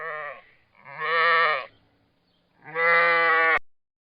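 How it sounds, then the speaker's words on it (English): Sheep on a farm give two loud, close bleats, the first drawn out after a short lead-in and the second following a pause, each a wavering, nasal cry heard on its own. "The sheep said yes."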